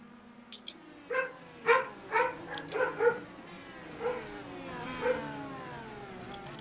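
Dogs bark in several sharp, close barks clustered over a few seconds, then fall back to a couple of fainter ones over a low steady hum.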